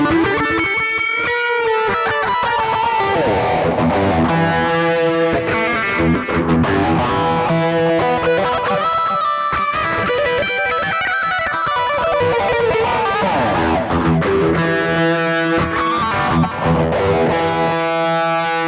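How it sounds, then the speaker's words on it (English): An electric guitar through a Boss OD-1 overdrive pedal plays a gritty riff of chords and sustained notes, loud and continuous with a crunchy, saturated tone. "For this tone, I'm using the Boss OD1 overdrive pedal"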